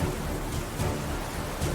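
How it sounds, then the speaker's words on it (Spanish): Storm at sea with heavy rain and hail pounding steadily, low rumbles of thunder rolling underneath, loud and continuous without any voices. "Las nubes ennegrecidas lanzan lluvia y granizo sobre la tripulación, mientras intentan resistir el clima enfurecido."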